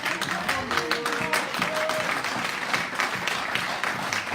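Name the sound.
timid applause from audience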